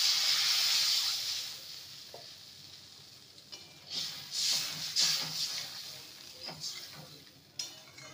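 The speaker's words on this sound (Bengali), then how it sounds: "এবার দিয়ে দেবো জল।" Water hits a hot pan of potatoes fried in spices for a prawn lentil curry, bursting into a loud hiss that settles into softer sizzling with occasional stirring.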